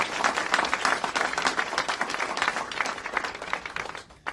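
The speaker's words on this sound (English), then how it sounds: "Let's give Aliyah a round of applause." Audience applause at a public appearance by Mike Pence at an ICE field office in Atlanta, steady dense clapping from a crowd that stays loud throughout and tapers off at the very end, with no talking over it.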